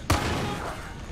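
A single sharp gunshot in the video game Far Cry 5 cracks near the start and leaves a short fading echo behind it.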